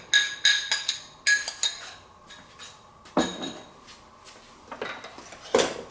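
Utensils clink against a bowl as a spicy summer salad is tossed with a light dressing, giving a run of sharp, close taps and scrapes in uneven bursts with short pauses.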